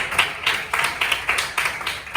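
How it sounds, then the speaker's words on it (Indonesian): A classroom of students claps in a steady, quick rhythm, several hands beating together in even pulses that are close and fairly loud, with no voices over them. "berikan tepuk tangan untuk mereka"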